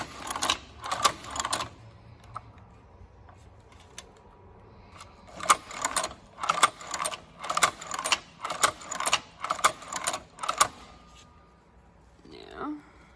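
A Cowboy Outlaw sewing machine stitches material in rapid mechanical bursts, starting and stopping in short runs of rhythmic clatter, close and fairly loud, with a brief quieter sound at the end.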